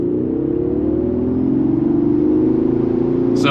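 A 2025 Mercedes-Benz G580 electric G-Wagen pulls away from a dead stop, its steady electric motor whine rising in pitch as it accelerates, loud and close, with no talking.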